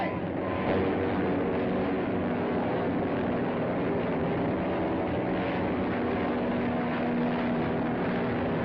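A propeller airplane drones steadily in flight, a continuous engine roar with a sustained low hum that holds level throughout, close and loud, with no voices.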